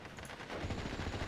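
Rapid machine-gun fire from an Airborne Bren group in the Steel Division video game, a dense, continuous rattle of bursts that are moderately loud and heard without speech.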